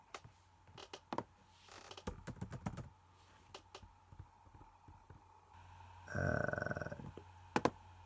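Quick bursts of typing on a computer keyboard entering a Google search, a few scattered key taps followed by a denser run of clattering keystrokes, then a couple of final clicks, close and fairly quiet with no talk.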